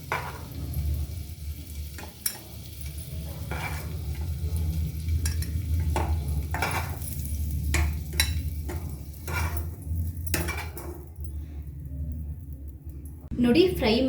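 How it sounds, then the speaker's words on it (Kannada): Boiled eggs fry in masala on a low flame, giving a steady soft sizzle broken by the scrape and clink of a spoon stirring in the pan. "ಕಮ್ಮಿ ಉರಿ ಇಟ್ಕೊಂಡು ಜಸ್ಟ್ ಒಂದೇ 1 ನಿಮಿಷ ಈ ಮಸಾಲದಲ್ಲಿ ಫ್ರೈ ಮಾಡ್ಕೊಳ್ಳೋಣ"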